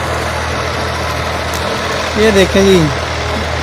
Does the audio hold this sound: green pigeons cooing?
no